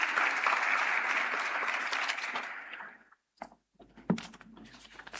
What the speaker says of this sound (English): A hand of applause to him.